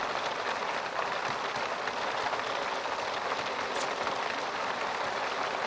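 Rain mixed with hail pours steadily onto an outdoor garden, a dense, even hiss of impacts filling the whole scene with no pauses and no voices.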